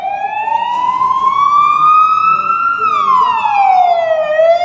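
A loud wailing ambulance siren sweeps slowly up and then back down in pitch, close by, with faint road traffic underneath.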